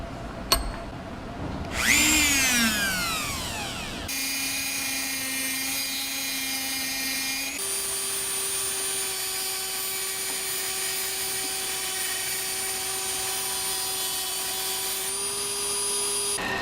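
A Dremel rotary tool clamped in a vise cuts through small motor shafts, a loud sustained high whine that shifts pitch as it bites into the metal, running steadily without speech.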